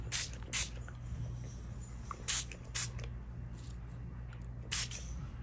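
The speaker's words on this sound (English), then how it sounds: "I'm going to spray the paper if Evan can show the" Several short, quiet bursts of a spray bottle misting water onto semi-sized painting paper, spaced irregularly over a low steady background hum.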